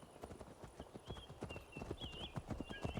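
Horse hooves clip-clop in a steady, close rhythm through Assassin's Creed Valhalla gameplay, with a few faint tonal whinny-like sounds over the hoofbeats.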